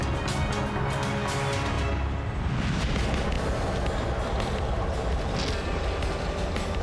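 New Year's Eve fireworks show in Valparaiso, Chile, a loud continuous barrage of deep booms and crackling bursts merging into a dense rolling rumble with no pauses or voices.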